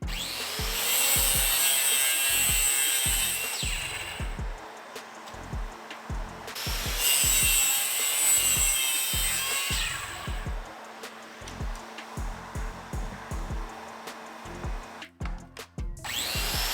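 A hand saw cuts small wooden parts from a scrap piece, with steady rhythmic back-and-forth strokes, loud and close, pausing briefly between sawing runs and ending in a few scraping, shifting sounds.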